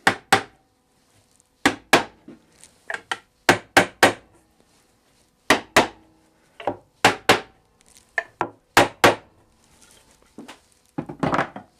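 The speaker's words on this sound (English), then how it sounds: "grab a mallet, and set them in" A wooden mallet drives tenons into the mortises of a vintage wooden table under restoration. Crisp, close knocks arrive in irregular clusters of two or three with short gaps between them, and there is no speech.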